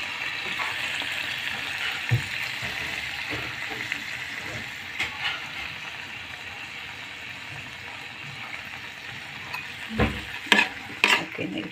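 A dish cooks in a pan at midday, with a soft steady sizzle of frying under scattered clinks and scrapes of stirring, fairly quiet throughout.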